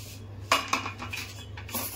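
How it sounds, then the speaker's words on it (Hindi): Dishes, pots and utensils being washed by hand in a home kitchen: close metallic clinks and clatters of steel vessels knocking together, a few sharp hits over a low steady hum, with no talking. "दो और बर्तन साफ करूंगी"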